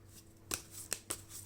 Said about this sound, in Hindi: जब तक मैं शफल करती हूँ आप